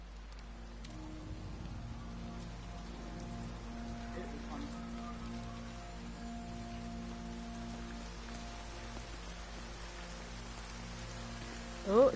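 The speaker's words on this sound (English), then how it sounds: "Oh, it's now raining" Steady rain falls in Everybody's Gone To The Rapture, a continuous soft patter on surfaces over a low background hum, holding an even level throughout with a brief louder sound right at the end.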